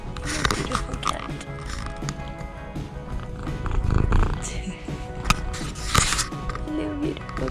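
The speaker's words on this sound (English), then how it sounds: "Making friends with the local cats." Local cat purring outdoors near a tent on a road trip in Poland, heard as a low, continuous rumble close by, with scattered clatter and background noise over it.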